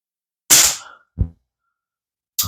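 A Crosman 1377 air pistol fires Apolo 9.0 grain domed pellets: a loud, sharp, close crack, then a softer short thud, then a further brief burst near the end, with silence between.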